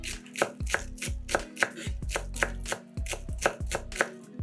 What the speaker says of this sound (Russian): Нарезаем зеленый лук.